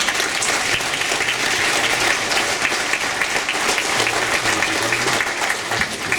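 Warm, sustained applause from an audience at a benefit concert by music school pupils, dense clapping filling the hall at a steady level throughout.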